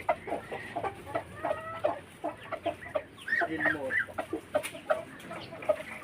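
Rhode Island Red chickens on a farm cluck and murmur in repeated short calls amid steady outdoor background noise, with a voice faintly present at times.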